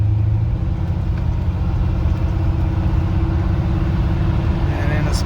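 A 1981 Cadillac Eldorado engine runs after its throttle position sensor was cleaned, giving a steady, loud, low rumble throughout with a faint voice mixed in.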